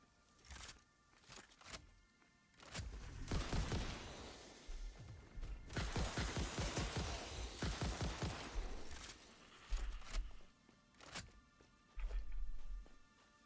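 Rifle fire in the video game Satisfactory: bursts of rapid repeated shots with mechanical clatter, loud and close, coming in several clusters separated by short pauses, with no talk.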